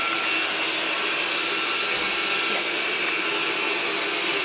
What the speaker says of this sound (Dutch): Stofzuiger het even aan.